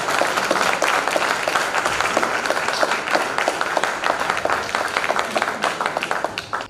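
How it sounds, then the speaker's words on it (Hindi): An audience at a patriotic poetry recital in Bihar applauds in a dense, steady burst of clapping that stays loud and close, then begins to thin out toward the end. "गंगा के इस पार से उस पार के जितने लोग हैं एक बार अंतर मन से ताली बजा दीजिए"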